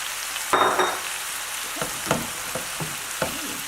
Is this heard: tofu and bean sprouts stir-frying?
yes